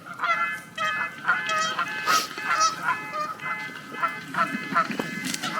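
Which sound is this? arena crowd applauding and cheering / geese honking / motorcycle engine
geese honking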